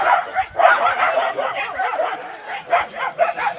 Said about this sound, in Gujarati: જો કે કૂતરા થોડાક ભોં છે અહીંયા એટલે થોડોક અવાજ તમને ને આવશે